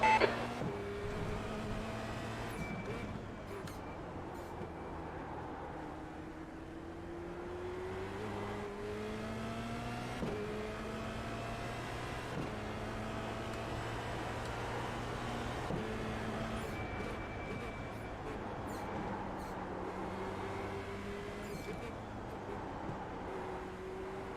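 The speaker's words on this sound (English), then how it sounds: "Car approaching. Watch your mirrors." A Formula Renault race car at Mid-Ohio in a racing simulator game, its engine note climbing through repeated rising revs and upshifts in a steady rhythm, with occasional faint beeps and no speech.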